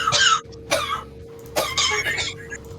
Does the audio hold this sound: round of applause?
no